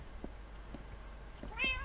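A Minecraft cat gives a single short meow near the end, preceded by a few faint soft taps over a quiet background.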